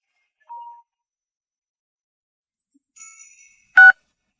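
A phone is dialed: a short single tone comes first, then a faint electronic burst, and then one loud, sharp keypad beep, all in near silence.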